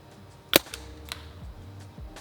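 A Planet Eclipse EMF100 magazine-fed paintball marker fires outdoors, one sharp crack standing out over a quieter pop, with soft handling noise and no talk.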